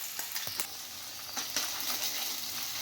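Ginger-garlic paste frying with onions in a pan for a dhaba-style okra dish, a steady soft sizzle broken by scattered light crackles and pops, close and continuous.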